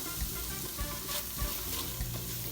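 Vegetables with chili fry in oil for carne mechada, a continuous close sizzle broken by soft periodic stirring thumps and scrapes in the pan.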